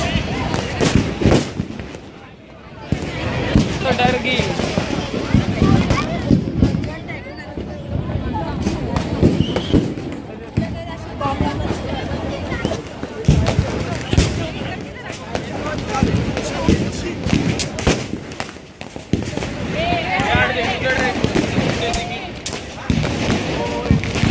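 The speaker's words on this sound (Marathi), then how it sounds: "असा खुला ग्राउंड आहे त्याच्यात फटाके फोडतात सर्व" Firecrackers bursting at a Diwali celebration in an open ground at Chhatrapati Shivaji Maharaj Park in Dadar, with repeated loud cracks and booms spread through crowd noise and nearby talking.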